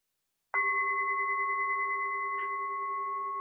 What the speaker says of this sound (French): je vais vous proposer d'écouter les 3 coups de gong